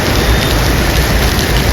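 Steady, loud rain pours down without pause, a dense hiss that fills the whole stretch with no voices over it.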